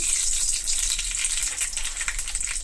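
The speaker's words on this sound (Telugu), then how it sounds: "ఫస్ట్ ఆయిల్ కాగింది కదా కొద్దిగా ఆవాలు" Mustard seeds hit hot oil in a pan for a horse gram curry and sizzle with a bright, steady hiss, fairly faint and alone with no talking.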